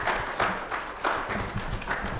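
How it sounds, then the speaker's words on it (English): Applause from a graduation ceremony audience, a steady dense patter of many hands clapping at moderate volume, with a few louder swells, continuing alone without talk. "Round of applause."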